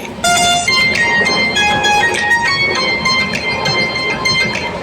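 The 12810 Mumbai Mail runs near Khardi, about 28 km beyond Igatpuri, at around 45 to 50 km/h. A loud, steady rolling rumble carries high, wavering squealing tones throughout.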